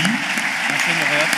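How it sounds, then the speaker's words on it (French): An audience applauds at a jury award ceremony, dense clapping running throughout while voices speak over it. "On l'applaudit."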